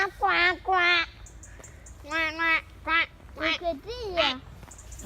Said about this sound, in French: Des canards. Est-ce que vous les voyez?